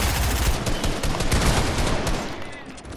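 Dense automatic gunfire in a video game arena match, a continuous loud rattle of close shots with heavy low thumps, running steadily for about three seconds before easing slightly.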